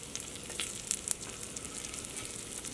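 Curry leaves, broken red chili and crushed garlic cloves frying in hot oil for Andhra-style dal rasam, a steady close sizzle with sharp crackling pops scattered throughout, loud and with no talking.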